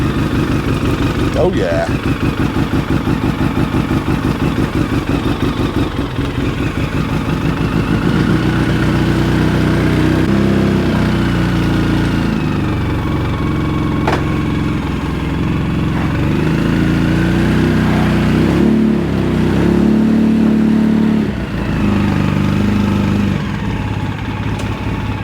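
An Arctic Cat Wildcat 1000X side-by-side engine fires up and settles into a steady, close, loud idle with a low rumble, while people talk over it throughout.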